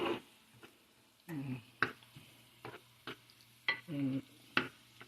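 Ingredients for a mung bean dish are sautéed in a pan, giving a faint sizzle broken by intermittent scraping and stirring strokes with clear pauses between them.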